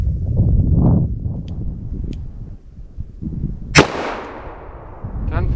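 .44 Special lead hollow point fired outdoors, a single sharp loud report with a decaying echo, amid low rumbling background noise and faint clicks.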